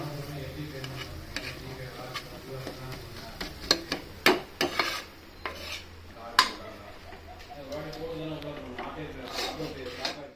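Mustard seeds and urad dal fry in hot sesame oil with scattered sharp pops and crackles, mixed with utensil scraping against the pan and voices in the background.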